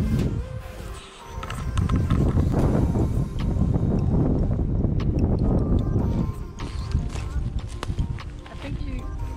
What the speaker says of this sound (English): it's a bit windy to sit at the loch itself